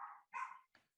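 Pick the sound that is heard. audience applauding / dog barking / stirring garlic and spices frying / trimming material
dog barking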